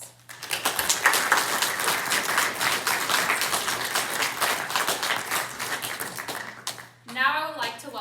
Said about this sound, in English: Please join me in giving these students a round of applause.